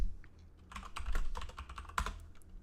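Clicky keystrokes on a computer keyboard as a sketch name is entered in Fusion 360 CAD software, a quick irregular burst of close taps alone in a quiet room.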